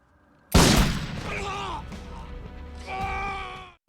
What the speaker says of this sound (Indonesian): Sonny langsung menembak kaki Vincent